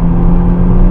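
An automatic car pulls ahead in drive as the gas pedal is pressed, a loud, close, steady low engine hum with a whirring edge over one brief second, no speech.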